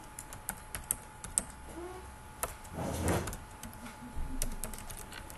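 A sentence being typed on a computer keyboard: close, crisp keystrokes in quick irregular bursts, with a brief rumbling noise in the middle before the tapping resumes.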